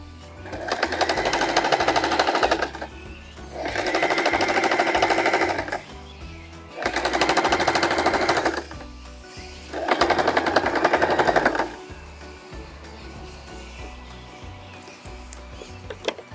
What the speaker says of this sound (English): Gonna run another straight stitch all the way down.